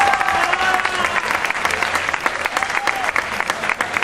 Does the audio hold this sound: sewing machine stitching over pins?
no